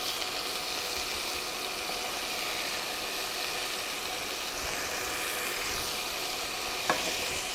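Steak patties frying in a pan, a steady broadband sizzle running throughout with no talk, one brief sharp clink near the end.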